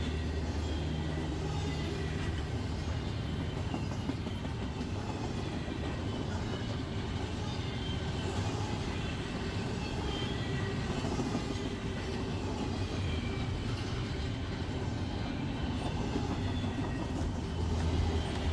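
A freight train hauled partly by Canadian National locomotives rolls past with a continuous heavy rumble and steady rail rattle, close and unbroken for the whole stretch, with no talking.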